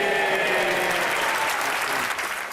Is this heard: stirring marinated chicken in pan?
no